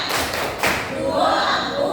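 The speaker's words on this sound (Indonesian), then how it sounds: "kasih tepuk dulu, tepuk santin dulu, tepuk santin" A classroom of students claps a quick rhythmic chant together, with thumping claps and voices close and loud for about two seconds.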